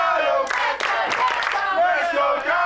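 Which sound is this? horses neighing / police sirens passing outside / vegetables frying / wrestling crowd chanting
wrestling crowd chanting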